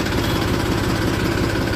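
A tractor engine running, a loud continuous chugging drone with steady mechanical vibration, close by and alone without talk.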